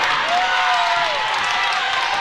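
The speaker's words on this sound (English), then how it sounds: "Crowd going crazy." Crowd noise fills a school gymnasium at a boys' high school basketball game against Lummi Nation, a steady loud roar of voices and cheering after a breakaway basket, with no clear pauses.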